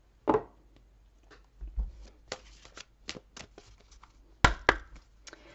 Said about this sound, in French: Je vais tirer avant de poursuivre exceptionnellement une carte